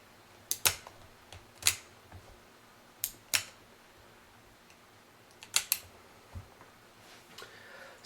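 A Smith & Wesson .500 Performance Center revolver's trigger mechanism gives sharp, isolated mechanical clicks, some in quick pairs, close up in a quiet room.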